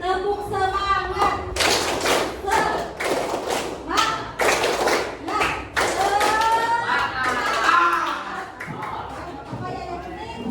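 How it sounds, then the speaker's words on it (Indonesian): A group, likely children in a classroom, performs the rhythmic 'tepuk semangat' spirit clap, with sharp bursts of clapping and tapping in quick patterns interleaved with chanted voices over about ten seconds. "Tepuk semangat"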